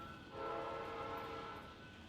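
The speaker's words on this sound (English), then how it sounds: "Oh, we've got a hype train." A Twitch hype train alert effect sounds as a sustained, horn-like tonal chord that swells in after a brief pause and holds steadily for about two seconds at moderate volume, with no talking.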